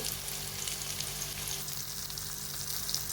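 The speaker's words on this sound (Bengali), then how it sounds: "পেঁয়াজ রসুন আর কাঁচামরিচ হালকা ভেজে নিচ্ছি" Chopped onion, garlic and green chili fry lightly in oil in a pan, giving a steady, even sizzle that holds close and unbroken throughout with no voices.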